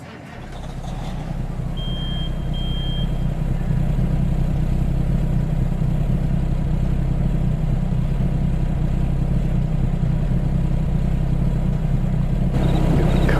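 Truck engine running steadily in Farming Simulator 22 on an Ohio farm, a continuous low rumble that fades in at the start and holds at a constant loud level, with a brief high tone early on.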